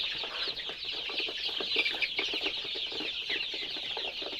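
Chickens clucking and squawking together inside a poultry shed, a busy, continuous chorus of overlapping calls at moderate distance with no talk.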